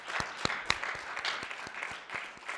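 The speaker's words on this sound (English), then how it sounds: "Let's give them a round of applause." Sparse, uneven clapping from a small audience honoring family and friends at a practical nursing pinning ceremony, individual claps distinct and near, fairly quiet.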